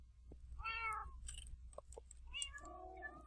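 Cats meowing in Minecraft in a hall full of cats: several short, quiet meows come one after another, alone against a faint background hum.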